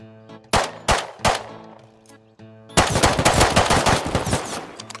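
Gunfire in the video game Rust: three separate loud single shots, then a sustained rapid automatic burst that rattles on without a break, close and sharp over a low background tone.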